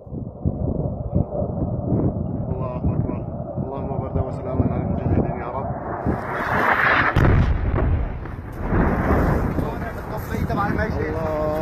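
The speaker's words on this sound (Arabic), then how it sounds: "قصف الطيران الحربي على منطقة البتراء في القلمون الشرقي" Warplane airstrike explosions strike the Petra area of eastern Qalamoun, a heavy rumbling blast swelling mid-clip amid wind buffeting the microphone, with people talking and shouting throughout.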